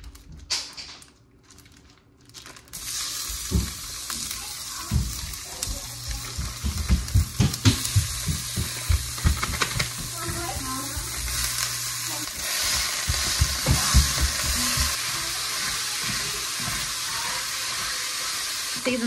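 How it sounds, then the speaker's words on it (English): A pound of ground beef sizzles steadily in a hot pan, a constant frying hiss broken by repeated scraping and stirring knocks from a utensil. "I'm going to cook 1 pound of ground beef"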